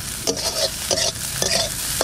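Ridge gourd peels fry and sizzle in a pan while being stirred, with short scraping strokes at a steady rhythm over a constant close hiss.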